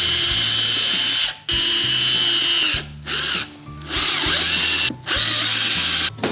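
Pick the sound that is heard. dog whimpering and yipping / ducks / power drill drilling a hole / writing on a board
power drill drilling a hole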